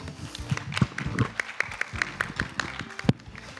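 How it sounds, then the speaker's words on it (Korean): Light, scattered clapping from a conference audience welcoming a keynote speaker at a carbon-neutrality forum, brief and fairly sparse, with a few sharp louder claps and a murmur of voices underneath. "큰 박수로 회장님을 맞아주시면 감사하겠습니다."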